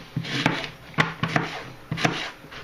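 A knife chops apples for apple wine, with irregular crisp thuds and crunches repeating at roughly half-second gaps, close and clear.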